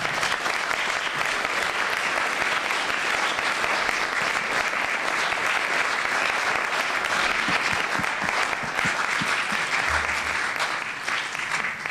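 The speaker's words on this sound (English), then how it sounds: "How about one more round of applause?" Audience applause after a college lecture comes as a steady, even wash of many hands clapping, sustained at constant loudness for the whole stretch.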